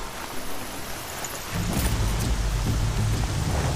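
Steady rain pours down in the game Horizon Zero Dawn, a dense hiss that thickens after a moment with a deeper rumbling swell like distant thunder, no voices.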